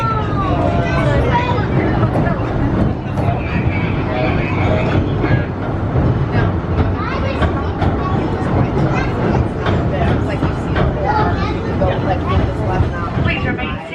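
The Disneyland Railroad train rumbles along with a steady heavy roar and occasional clacking, while people chatter nearby and voices carry through the noise.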